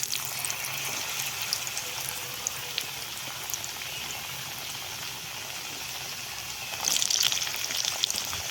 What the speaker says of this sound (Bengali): আলুগুলো প্রথমে কষে নিচ্ছি ভালো করে তেলে